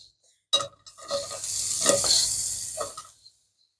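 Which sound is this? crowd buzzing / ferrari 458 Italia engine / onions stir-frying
onions stir-frying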